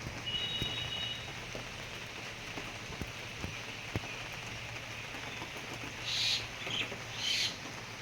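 Rain falls steadily outside a small house in a village, a soft continuous patter with a few sharp drips and faint higher chirps near the end.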